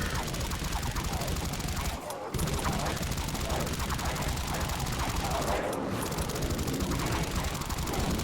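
The AS-VAL Ghost rifle fires in the game Dead Frontier in long rapid automatic bursts. The steady chatter stops briefly twice, and a voice talks under it.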